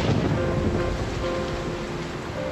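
A rain sound effect in a children's story retelling, a steady hissing wash of falling rain with a faint low rumble underneath, constant in level and heard alone.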